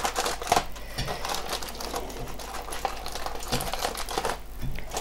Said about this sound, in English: the foil on that side and then pull up the foil